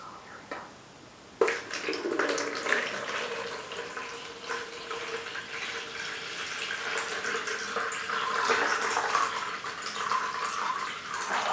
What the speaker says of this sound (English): I have the warm water already prepared for you in this container, and I'm just going to pour it in.